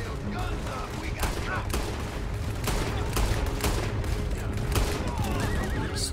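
Gunfire from a stagecoach robbery shootout in Red Dead Redemption 2, with repeated sharp shots amid a busy mix of horse whinnies and hoofbeats, continuous and loud throughout.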